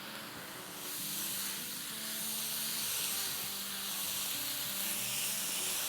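Marinated meat for Turkish pide sizzles steadily in a hot pan, a close, continuous hiss with a faint crackle that swells slightly after the first second and holds on its own.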